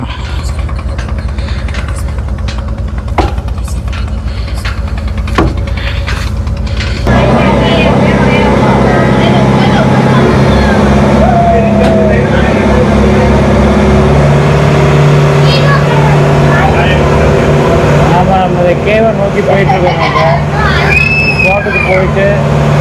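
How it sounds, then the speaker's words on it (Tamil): A motorboat's engine runs on the water in a cave area in Vietnam, a steady loud drone with a low hum that strengthens partway through as the boat draws near, while people talk over it. "இங்கே பாருங்கள் அங்கே ஒரு போட் வந்துட்டுருக்கு"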